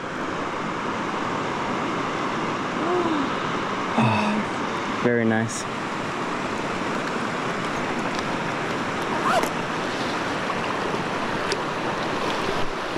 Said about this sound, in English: So many waves.